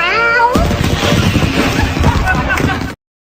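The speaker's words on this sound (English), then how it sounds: "Bring in the cat." A cat meows briefly at the start, then a loud burst of noisy chatter and movement takes over before cutting to silence.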